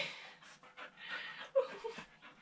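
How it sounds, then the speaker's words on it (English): A dog panting close by, a run of quick, soft breathy huffs with a small whine partway through, faint and alone. "We've now got a dog."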